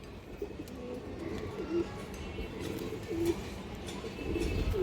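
Soft, low pigeon coos repeat every second or so over a murmuring background, fairly close and gentle.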